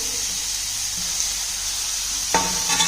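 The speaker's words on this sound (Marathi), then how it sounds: "तर याच्यामध्ये आपले बारीक चिरलेले 2 टोमॅटो आहे ते भाजून घ्यायचे आहेत" Finely chopped tomatoes frying in a pan for pav bhaji, a steady soft sizzle and hiss that swells louder near the end as stirring or fresh contact with the hot pan adds crackle.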